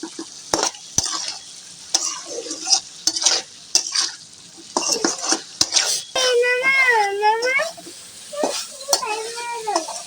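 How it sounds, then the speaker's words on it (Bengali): Mixed vegetables, including stalks, flat beans and potatoes, are turned with spices in a frying pan, with irregular spatula scrapes and sharp knocks over a soft sizzle. A wavering, vocal-like tone rises in the middle and again near the end. "নেড়ে চেড়ে দেই উল্টিয়ে পাল্টিয়ে দেই সব দিকে যাতে মশলাগুলো দিয়ে আমাদের সবজিগুলো সিদ্ধ হয়ে যায়"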